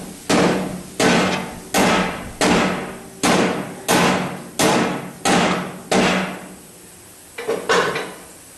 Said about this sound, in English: Really don't have the right angle to swing a hammer at this